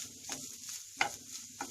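Coconut, shallots and spices being roasted in a pan for a soya chunks masala curry, with curry leaves nearby: a few brief stirring scrapes and a soft sizzle, fairly quiet, with no talking.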